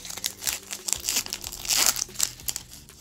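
A Pokémon Celebrations booster pack's foil wrapper crinkles and rustles as scissors cut it open, with close, crisp crackling and sharp snipping bursts throughout.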